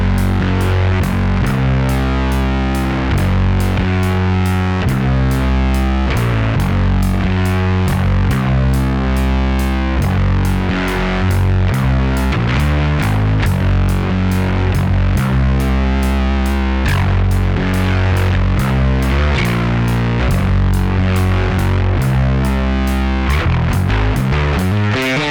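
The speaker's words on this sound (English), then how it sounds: "can Hornburg do some truly hideous amounts of fuzzy distortion?" A Hornburg Dual Bass Fuzz pedal drives a bass guitar into heavy, hideous fuzzy distortion, with loud, sustained, gritty riffs played in a steady rhythm for the whole stretch and no talking.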